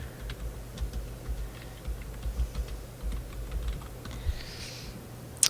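Typing on a computer keyboard while entering a web address, a quiet run of soft irregular key clicks with one sharper tap at the end, close and alone with no voices.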